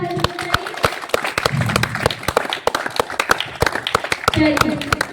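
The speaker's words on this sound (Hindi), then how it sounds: "तो आपके लिए भी जोरदार ताली।" Brisk applause, dense and steady clapping from a group at a swimming event, with a voice speaking over parts of it.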